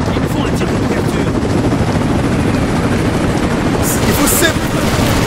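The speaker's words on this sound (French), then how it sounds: "Il faut se débarrasser de ce putain d'hélicoptère." A helicopter roars continuously overhead in the video game Rise of the Tomb Raider, a loud dense rotor rumble with bursts of gunfire mixed in and someone talking over it.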